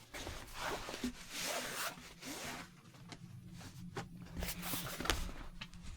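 A cut piece of cloth is pulled and peeled away from the rest of the fabric, producing long close ripping and rubbing sounds with soft crackles, no speech.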